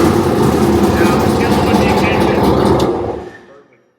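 A vehicle engine starts and runs with a heavy, loud rumble close by, then fades out abruptly near the end.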